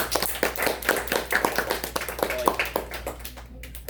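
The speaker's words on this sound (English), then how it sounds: "give him a round of applause" A small audience claps a short round of applause for a presenter after a question session, the claps sparse and distinct rather than a dense roar, fading out toward the end.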